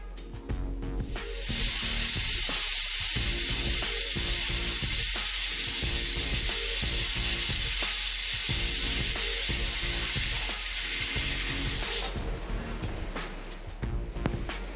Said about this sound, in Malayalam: നോസിലിൽ കൂടെ ആവി വന്നതിന് ശേഷം വെയിറ്റിട്ട് കൊടുക്കാം